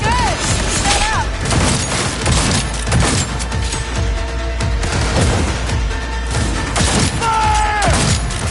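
Dense, loud bursts of gunfire in Cyberpunk 2077 on PS5, rapid overlapping shots with booms and mechanical clatter throughout, mixed with game sound effects and music.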